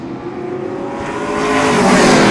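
Pro stock race cars roar loudly at Seekonk Speedway during an opening-day race, engine noise swelling and rising in pitch as they accelerate past, with no talk over it.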